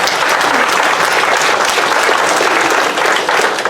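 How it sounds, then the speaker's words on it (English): A crowd applauds loudly and steadily at a Sauk Village public meeting in 2017, honoring a committee for finishing a four-year project; the clapping is dense and sustained throughout with no pauses. "You deserve another round of applause."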